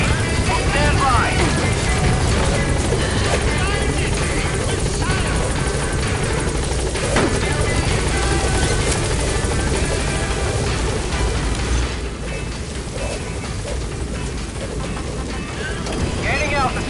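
Rotor chop from the Pequot support helicopter in Metal Gear Solid V, a loud steady whirring drone that holds strong for most of the stretch, then eases slightly lower near the end, with a voice speaking over it.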